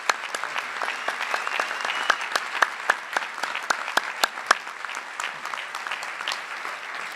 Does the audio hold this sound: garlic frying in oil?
no